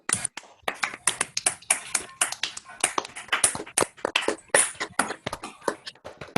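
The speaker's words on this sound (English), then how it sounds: "So you can unmute yourself to clap." Scattered clapping from several people joining an online video call, uneven bursts of hand claps coming through separate microphones with no talking.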